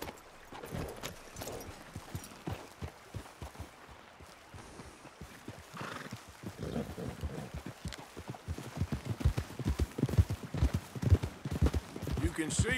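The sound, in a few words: horses walking, clip-clop hooves in Red Dead Redemption 2 video game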